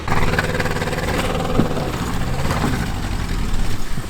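A small tractor engine runs loud and close, chugging steadily at idle with a rough, rumbling rhythm throughout.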